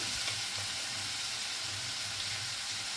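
Onions frying in oil with a pinch of salt added: a dense, constant close sizzle with no pauses or voices.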